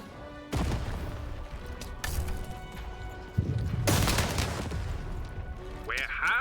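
A cannon fires in the Lost In Random video game, with booming blasts and crashing impacts in a loud, busy battle mix, and a player talks over it.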